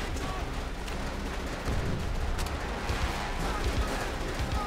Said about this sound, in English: Okay, another bomb.